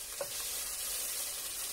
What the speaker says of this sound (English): now everything is frying very well